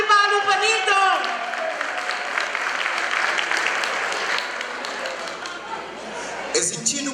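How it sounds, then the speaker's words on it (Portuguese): A crowd at a Cape Verdean cultural night celebration applauds, a broad, sustained round of clapping that starts over a voice and continues steadily before fading near the end. "Salve de palmas para Nilton!"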